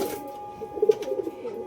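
Freshly released pigeons coo close by in a few short, throaty bursts over a quiet background.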